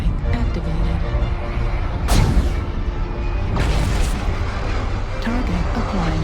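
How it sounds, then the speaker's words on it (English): Heavy booming airstrike blasts from the game Mechwarrior Online, two large broadband bursts roughly a second and a half apart standing out over constant battle noise and engine rumble. "Airstrike activated."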